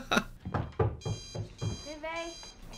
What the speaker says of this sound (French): Réveil.